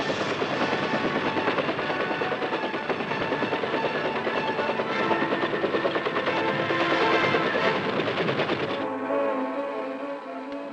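Military helicopters on Vietnam-era U.S. Army air assault missions give a loud, continuous rotor and engine roar that holds steady before easing and thinning near the end.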